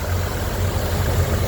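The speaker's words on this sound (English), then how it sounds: "Okay, motor running" A 2007 Ford Escape engine idles in a steady, even drone with a low rumble, close and continuous, with no voices.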